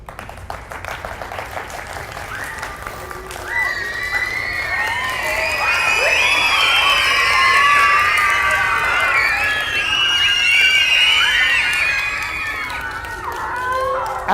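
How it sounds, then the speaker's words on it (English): A school audience of children at a solar eclipse assembly claps, the applause swelling from scattered taps into a loud sustained roar mixed with shouts and cheers, then tapering slightly before rising again. "is you guys clapping"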